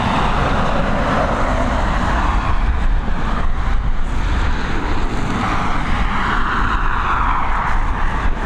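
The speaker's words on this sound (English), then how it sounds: "That A330 should not be far away now," Airbus A330 airliner arriving at Dublin Airport from LAX, a steady broadband jet roar at moderate distance lasting throughout, swelling slightly in places, with no talking.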